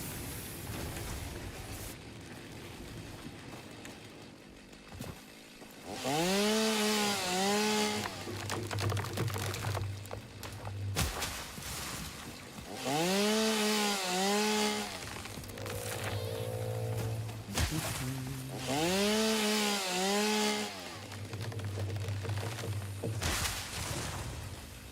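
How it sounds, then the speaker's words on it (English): A chainsaw cuts through shrubbery in the video game Satisfactory. It gives three loud bursts of rising and falling revving, each lasting a few seconds, with lower mechanical droning in the gaps. No one speaks. "the chainsaw even works on shrubbery"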